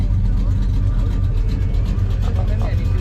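A Pontiac Grand Le Mans engine idles with a low, steady rumble at an outdoor car show, continuous and close, with voices talking over it.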